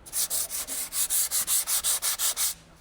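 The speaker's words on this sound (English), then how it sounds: "I won't have to be nearly as careful when I'm sanding" Rhythmic back-and-forth sanding strokes on a boat hull's paint, about a dozen steady passes in quick succession, close and fairly loud, with no talking.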